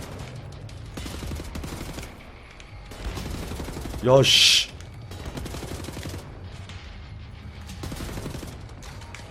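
Gunfire in the first-person shooter Wolfenstein: The New Order, with a short loud burst of shots amid game sounds while a player talks excitedly over it.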